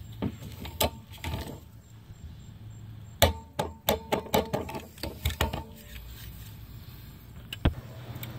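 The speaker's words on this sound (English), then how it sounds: "we're going to go ahead and torque these 14mm slide bolts 20, or at least this one" A torque wrench tightens 14mm brake slide bolts on a Kia Soul, making a rapid run of sharp, close ratcheting clicks, with scattered metallic knocks before and after.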